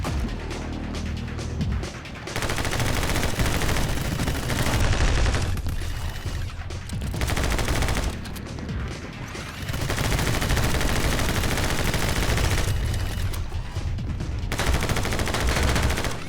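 Heavy gunfire in the video game My Friend Pedro, long loud fusillades of rapid shots in several sustained bursts separated by brief pauses, close and dominant with no talk.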